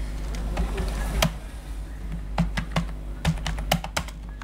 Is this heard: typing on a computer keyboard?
yes